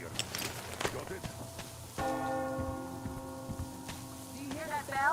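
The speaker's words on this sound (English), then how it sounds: "Do you hear that bell?" A bell rings out with long sustained tones over a busy, noisy backdrop of clattering and movement in the video game Metro Exodus.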